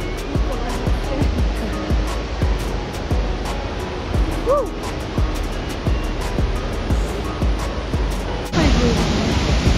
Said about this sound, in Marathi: वॉटरफॉलचा पण पाण्याचा वेग एवढा जोरात वाढला आहे